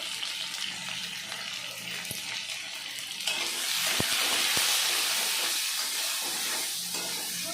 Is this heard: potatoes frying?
yes